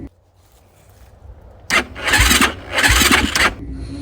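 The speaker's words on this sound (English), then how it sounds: "So the motor's been hard to start. I'll put some clips of that in somewhere," Hard-starting 2004 Yamaha YFZ450 quad being cranked: a quiet buildup, then two loud, ragged bursts of starter cranking and sputtering engine that fail to catch, with a low rumble between.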